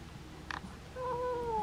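Cat meowing indoors, a short chirp-like sound followed by a longer drawn-out meow with a falling pitch, fairly close and clear.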